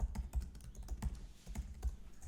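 Quiet, quick keyboard typing with irregular clicking keystrokes in a short burst, close by and soft.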